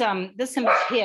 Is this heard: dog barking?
yes